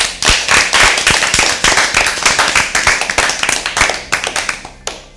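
Loud, dense clapping from an audience applauding a team at a Bible quiz, steady sharp hand claps lasting throughout before tapering off at the end, with no talk over it.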